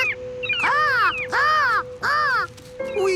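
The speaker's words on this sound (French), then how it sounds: "je sais qu'il y a des mouettes" Cartoon seagulls caw in three harsh, rising-and-falling calls in a row, loud and close, with a steady tone humming underneath.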